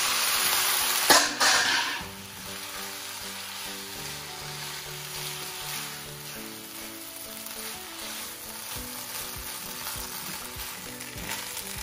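Noodles for chicken chowmein stir-fried in a hot pan, a steady loud sizzle with a sharp burst near the start, then continuous frying hiss and occasional scraping stirs throughout, no talking.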